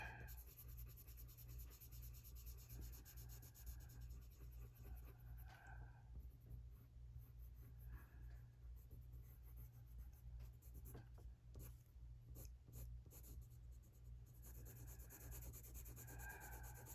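Prismacolor coloured pencil rubbing steadily across paper as colour is laid down, a close, quiet, continuous scratchy scribble in short back-and-forth strokes with no voices.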